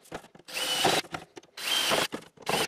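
Three short whirring bursts from a power drill boring pilot holes into a greenhouse truss, each lasting about half a second, with brief pauses between them.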